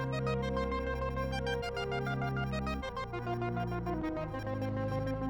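Elektron Octatrack atmosphere track plays on its own: sustained layered synth tones with slow chord changes every second or so, dense and continuous with no voices.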